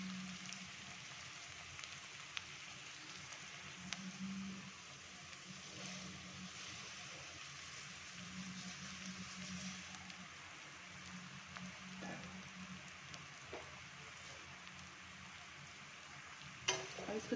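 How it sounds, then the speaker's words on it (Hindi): Poha hits hot mustard oil in a pan and roasts with a steady, soft frying sizzle, broken by occasional stirring clicks and scrapes, close and fairly quiet with no talk. "अब यहाँ पर हम डाल देंगे अपना पोहा।"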